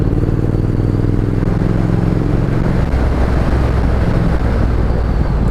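Triumph Thruxton R motorcycle under way, a steady loud engine drone mixed with rushing wind buffeting the microphone, the pitch dropping slightly partway through as the rider eases off, no voices.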